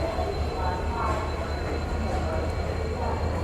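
A passing express train, the Hospet to CSMT service numbered 11140, gives a steady low rumble of wagons that holds at a constant loudness with no clear clickety-clack.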